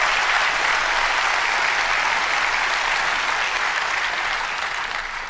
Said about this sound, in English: And then pause for the applause.